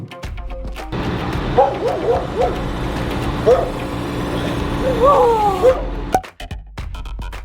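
Several dogs bark and yip in scattered bursts over a steady engine drone, moderately distant, ending abruptly as the background cuts out.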